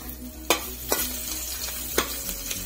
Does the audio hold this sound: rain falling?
no